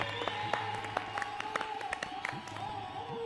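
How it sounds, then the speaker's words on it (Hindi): Applause from the audience at a Hindi poetry gathering, with scattered, uneven claps over a steady low hum and sustained tones, the clapping thinning out toward the end. "जोरदार तालियां इस महफिल के लिए"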